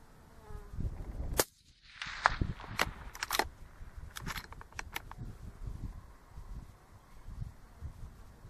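A single rifle shot fired at a target about 254 yards out while testing Leupold QRW scope mounts: one sharp, loud crack early on, followed by outdoor background noise and faint insect-like buzzing.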